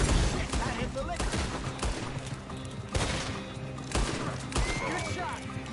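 Gunfire in Red Dead Redemption 2 during a shootout over liquor: a run of loud, sharp shots fired in quick succession, with horse noises mixed in among them.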